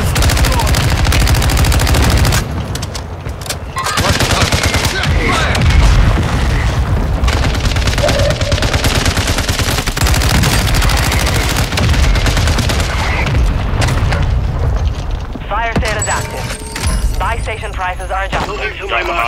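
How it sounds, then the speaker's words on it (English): Loud, dense battle audio from the video game Modern Warfare 2 Resurgence, with mortar strike explosions, booms and rapid gunfire layered almost nonstop, and players' voices talking over the chaos. "Friendly mortar strike on the way."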